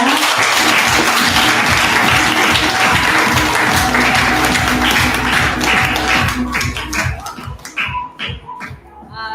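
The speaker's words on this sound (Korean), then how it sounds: "여러분 큰 박수 부탁드립니다." Loud applause from an audience welcoming a speaker at a marketing meeting, dense clapping that thins toward the end into scattered individual claps.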